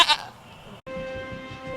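A goat gives a brief bleat at the very start, close and fairly loud, followed by a steady background tone and faint low rumbling with no talk.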